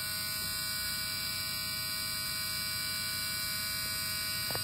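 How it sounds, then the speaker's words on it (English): A Ford Mustang ignition-on warning buzzer from a 1984-1986 Fox body Mustang SVO drones as a steady, continuous tone over a faint electrical hum inside the car, with no talk. "Let that turn off the buzzer."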